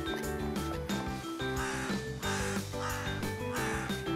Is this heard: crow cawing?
yes